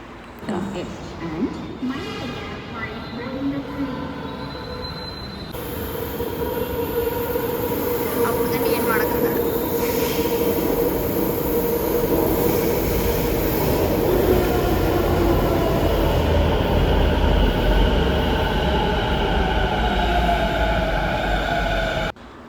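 A metro train rolls along with a rising, steady rumble and a high whine from the wheels, loud and continuous for most of the clip.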